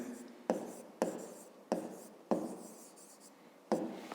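Handwriting on paper in a maths exercise, heard as five short scratchy strokes of a pen, each starting with a sharp onset and then fading into a soft rubbing trail, close and fairly quiet.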